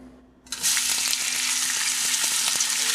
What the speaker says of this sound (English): I'm gonna go ahead and lay a chicken breast down in there.